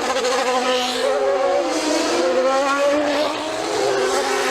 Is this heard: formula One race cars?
yes